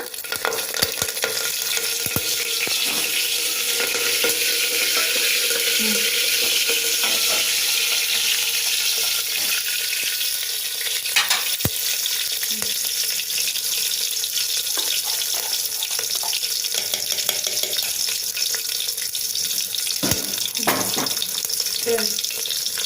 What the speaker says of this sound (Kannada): ಬೆಳ್ಳುಳ್ಳಿ ಸ್ವಲ್ಪ ಫ್ರೈ ಆದ ನಂತರ ಕರ್ಬೇವಿನ ಸೊಪ್ಪು ಹಾಕ್ಕೊಳ್ಳೋಣ